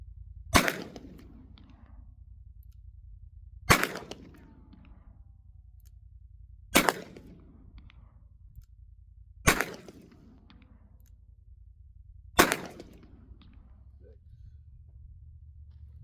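Five sharp .44 Magnum pistol shots, evenly spaced about three seconds apart, each a loud crack with a brief outdoor echo over a low steady hum.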